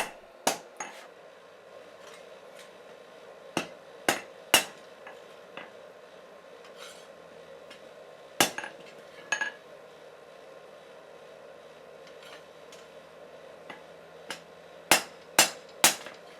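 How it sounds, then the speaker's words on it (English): Hammer cross peen striking a hot Damascus steel dagger blank during forging, sharp metallic clinks arriving in scattered single hits and quick pairs, ringing briefly over a steady low forge roar. "I'm using the crosspeen of my hammer to forge the texture into it that's going to show in the final pattern"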